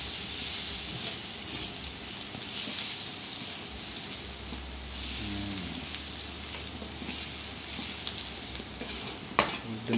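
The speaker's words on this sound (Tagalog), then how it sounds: "Usahan na natin ang ating pagigisa. Unahin po natin ang ating bawang." Garlic sautés in a pan until golden brown for a Filipino ground-meat dish, giving a steady close sizzle with scraping stir strokes and a sharp clank near the end, no voices.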